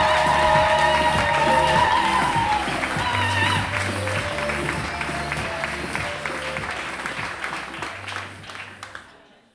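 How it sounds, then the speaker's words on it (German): Loud, dense applause and cheering from a poetry slam audience for a performer at a semifinal in Bayreuth, sustained for several seconds before fading out at the end. "Applaus bitte für Dominik"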